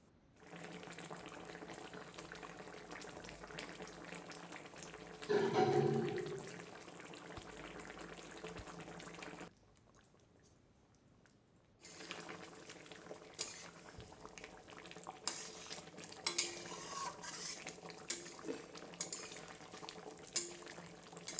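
A sea fish curry, cooked in a traditional Odisha style, boiling in a pot on the stove, with steady bubbling near the microphone. The sound briefly goes quiet for a couple of seconds and then the bubbling resumes.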